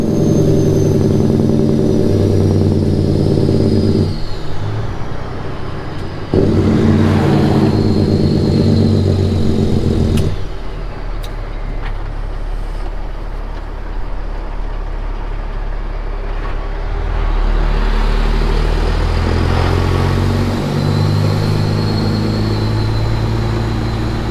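Truck engine pulling a loaded trailer, loud and near, rising through the gears with short dips at each shift and a steady drone between them.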